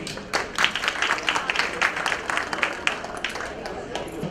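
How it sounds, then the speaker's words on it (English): A crowd applauds during a silver jubilee memento ceremony, many hands clapping in a lively, uneven patter that swells and dips while a voice talks faintly underneath. "huge round of applause"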